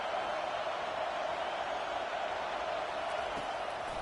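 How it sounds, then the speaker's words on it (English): Roaring college football stadium crowd in an NCAA game, a steady, dense wall of cheering and noise sustained throughout without a break, loud and enveloping as fans try to rattle the opposing offense. "Listen to this crowd just shaking the girders of this place trying to help their defense"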